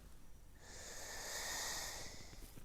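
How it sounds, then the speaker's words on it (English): A slow, deep breath drawn in through the nose during a guided meditation, a steady airy hiss that swells over about two seconds and then eases off, close and alone with no talking. "Take a few deep, conscious breaths. Breathing in deeply."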